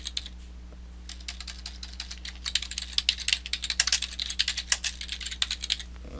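Keys clatter on a computer keyboard as a report name is typed into reporting software, a fast irregular run of close, crisp clicks over a low steady hum, with no speech.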